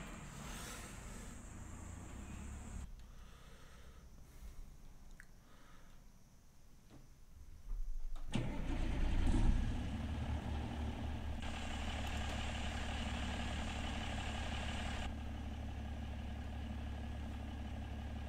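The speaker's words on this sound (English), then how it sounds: "This one is the stock Peterbilt 579, but with the engine sounds from Kriegbaum." A Peterbilt 579 truck engine in American Truck Simulator cranks and starts with a rising roar, then settles into a steady, rumbling idle.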